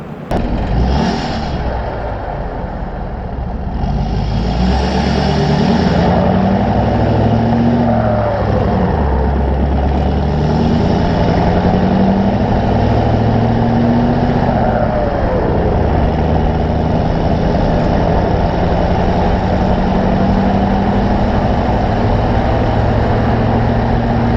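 A big rig tractor-trailer diesel engine rumbles low and heavy, building as it pulls after the clutch is let out, with a whistling turbo layered over the deep continuous drone.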